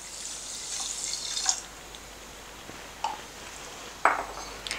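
Water is poured from a glass onto sugar in a pan to start a syrup for dal laddu: a brief splashing pour at first, then quiet with a couple of light clinks from the pan or utensils.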